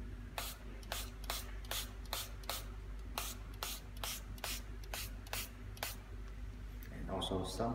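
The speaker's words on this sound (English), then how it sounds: "we should mix some soap water to spray on the scraches" Repeated short hissing bursts of a spray bottle misting soapy water onto glossy black wrap film, about a dozen evenly spaced squirts close by over a low steady hum.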